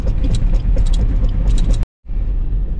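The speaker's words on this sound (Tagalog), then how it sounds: "Nag-ingay sa gulong." Loud, steady tire roar and engine rumble inside a car on a rough, uneven road in Batangas, briefly cutting to silence before the rumble resumes.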